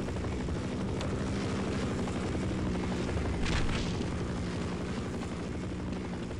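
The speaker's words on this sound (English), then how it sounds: "The horrifyingly hellish helicopter." A helicopter in the Half-Life mod TWHL Tower, a video game: a steady, loud rotor and engine drone with a rushing whoosh that swells briefly midway and never lets up.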